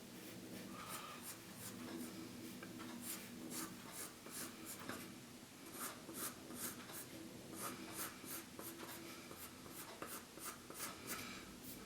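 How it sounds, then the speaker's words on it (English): Pencil drawing on paper while sketching a Pokémon ghost, Gastly, step by step: steady close scratchy strokes across the whole stretch, with short rhythmic bursts as ovals for the eyes are traced, and no talking. "Then I'm going to draw the oval for the left eye."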